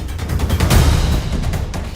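Dull booming explosions and rumbling reports roll through the clip during the Russia-Ukraine war, loudest near the middle, with a continuous low rumble beneath them.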